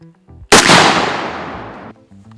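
A single sharp gunshot in a video game shooting range, loud and close with a long fading tail lasting over a second, followed by quiet.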